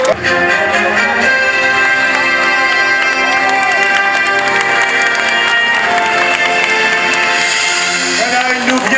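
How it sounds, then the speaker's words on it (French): Crowd applause for cyclist Sylvain Chavanel at a podium ceremony, steady and loud throughout, mixed with music and an announcer's voice. "qu'on applaudit de nouveau très fort"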